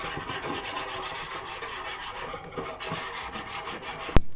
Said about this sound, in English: Time to whisk.